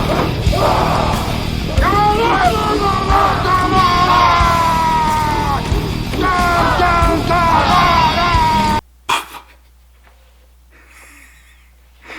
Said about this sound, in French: C'est lui leur chef qui crie bizarrement.